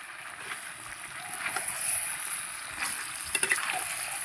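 Fried kohlrabi is stirred into chicken curry in a small wok, giving a soft, continuous sizzle with scraping stirs and a few sharper clacks near the end.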